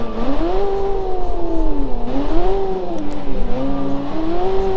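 A carbureted custom car in BeamNG.drive revs hard and strains while rock crawling, its engine note rising and falling in long sustained waves, loud and continuous.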